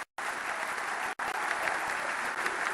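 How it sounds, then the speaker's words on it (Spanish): An audience at a political gathering breaks into loud, dense applause that carries on steadily after a brief opening gap, with one short dropout midway. "Un fuerte aplauso a todos ellos"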